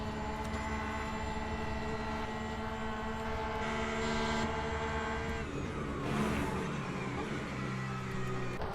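Engine of a Porsche 992 race car in the video game Le Mans Ultimate, a steady droning tone with layered harmonics that shifts in pitch about midway, with the car near and loud.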